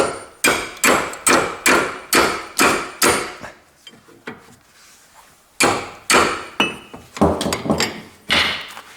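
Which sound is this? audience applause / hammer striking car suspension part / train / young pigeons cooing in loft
hammer striking car suspension part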